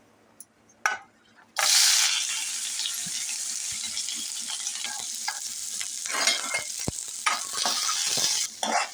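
Chopped onion frying in a pan for a spicy Marathi prawn and potato curry, a steady bright sizzle starting after a brief knock and running continuously, with stirring scrapes and clicks near the end.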